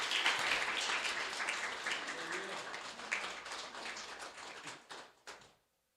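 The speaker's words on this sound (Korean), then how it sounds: "큰 격려의 박수 한번 보내주시면" A church congregation at a Korean Sunday service in Houston gives a pastor a burst of applause, a dense clatter of clapping mixed with voices that thins out and stops.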